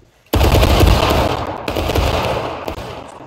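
Dense, continuous musket volley fire from a large Civil War era line battle in the game War of Rights, a sustained loud crackle of many overlapping shots starting abruptly and rolling on without pause.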